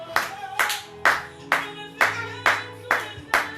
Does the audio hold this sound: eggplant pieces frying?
no